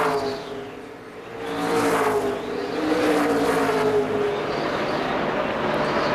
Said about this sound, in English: So Tony across the pit speed exit line and begins to accelerate on the apron of the racetrack